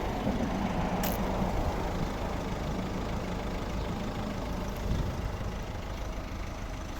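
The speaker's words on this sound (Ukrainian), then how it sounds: "заведений рівно тихо працює" A 2010 Volvo S40 with a 1.6-litre diesel engine idles steadily and evenly, a continuous close-up rumble with no revving or voices.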